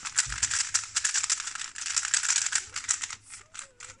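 Dry, rapid plastic clicking and rattling as a dry, unlubricated Skewb puzzle cube is twisted repeatedly, close up and continuous with brief pauses.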